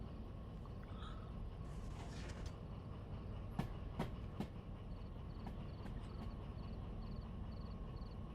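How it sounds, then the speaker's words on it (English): Trains rolling past in the Derail Valley VR railway game, a steady low rumble with a few sharp metallic clicks and clacks in the middle, fairly faint and continuous. "So I'm passing all these trains here"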